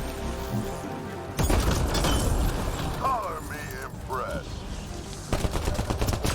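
Dense, continuous heavy-weapon fire during a Mass Effect: Andromeda battle, loud and sustained with booming impacts, while in-game voices cut through the middle of the barrage.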